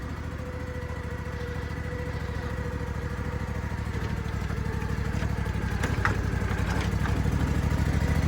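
A 2021 Hustler Hyperdrive zero-turn mower runs steadily as it is driven onto a small incline in a side yard, its engine drone close and continuous for the whole stretch with some light rattles on top.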